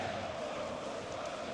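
Capacity crowd of 22,500 at the Leag Energie Stadion during a third-division football match between Energie Cottbus and Hansa Rostock, a steady distant roar and murmur filling the stadium without clear peaks.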